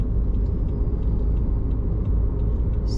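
Steady low road rumble from inside a car cruising on a highway in the Philippines, with constant engine and tire drone and no speech.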